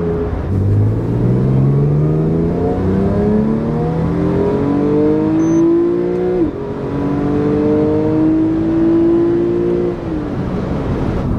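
A Porsche 911 997 GTS engine revs hard through rising gear pulls, the pitch climbing then dropping at each shift, loud and close throughout.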